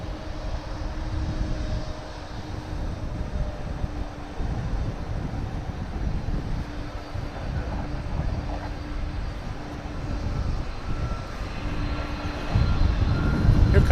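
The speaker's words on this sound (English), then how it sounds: "Here comes the A300 that arrived from Palm Beach. Another UPS flight." A UPS Airbus A300 airliner at DFW airport gives off a steady, moderately distant jet-engine roar with a low rumble that swells louder near the end.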